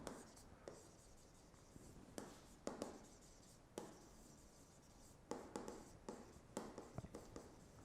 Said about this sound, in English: Let me first write it down.